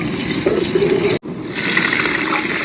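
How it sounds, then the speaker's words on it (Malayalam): Hot water is poured into a cooking pot while making fish biryani, producing a close, steady rushing pour with a brief break partway through. "ചുടുവെള്ളം ഒഴിച്ചു കൊടുക്കണേ ബെറ്റർ അല്ലേ?"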